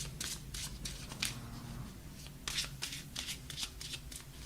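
Tarot cards are shuffled by hand in quick riffling bursts with soft papery flicks, close and clear, without talk.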